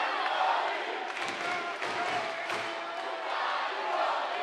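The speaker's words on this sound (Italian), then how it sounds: "Aumenta il tifo, il pubblico presente, tutto per Luca Rigoldi" A boxing crowd at Luca Rigoldi's bout against Oleksandr Yegorov cheers and chants steadily in a dense, continuous roar that swells and eases, with voices shouting throughout.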